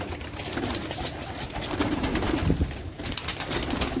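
Pigeons in a loft cage setup coo and stir nearby, a steady layered murmur of calls with soft rustling throughout, no talking.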